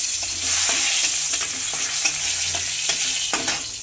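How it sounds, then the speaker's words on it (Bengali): Bay leaf and dried red chilies sizzle loudly in hot oil in a kadai as tempering for a bata fish dish, a close continuous crackle with repeated scraping stir strokes. "এই দেখো, তেজপাতা শুকনো লঙ্কা কড়াইতে ফোড়ন দিয়ে দিলাম"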